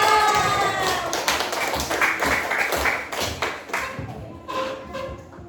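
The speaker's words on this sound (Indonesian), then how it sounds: "Tepuk tangan untuk Alga." Children in a village classroom session clap for a classmate named Alga after he answers, a burst of light, uneven handclaps and taps that thin out toward the end, with some voices mixed in.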